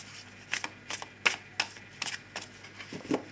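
Tarot cards shuffled and cut by hand, a run of crisp riffling bursts and soft slaps spaced irregularly, close and fairly quiet, with no talking.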